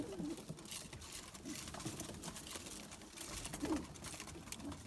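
Pigeons coo softly inside a coop, low murmuring calls repeating at intervals over a faint background of rustling and patter, quiet and close.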